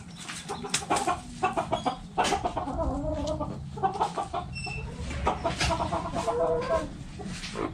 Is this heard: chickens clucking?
yes